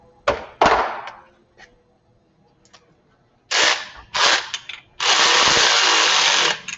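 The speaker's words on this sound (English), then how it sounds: "So I'll go ahead and tighten him down there." Power tool tightening a nut on a car starter motor during a rebuild: sharp impact bursts and short whirring runs, then a longer sustained buzz, loud and close, with no talking.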